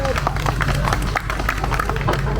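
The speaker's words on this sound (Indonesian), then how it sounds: "Tepuk tangan dulu." A crowd claps at a police-sponsored drag car racing event, with fast, dense handclaps continuing throughout, mixed with background voices and a low steady hum.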